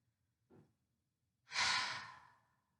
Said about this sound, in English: Find a subtle breath. Exhale from your throat.